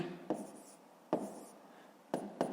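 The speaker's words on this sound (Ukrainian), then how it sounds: "Пишемо отже" Pen writing numbers on paper during a fifth-grade maths exercise: a few separate short scratchy strokes, close and quiet, with soft pauses between them.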